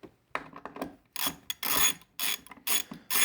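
Ratchet wrench backing out a long battery bolt on a 2021 Jeep JL: bursts of close, rapid clicking in irregular spurts separated by short pauses, no talking.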